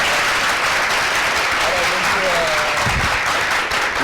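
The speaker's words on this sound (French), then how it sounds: "je vais demander à nos étudiants d'applaudir pour ce monsieur" Students in a studio audience applaud a guest, an English teacher, with steady, dense clapping that fills the whole stretch at even strength. A few faint voices rise briefly under the clapping.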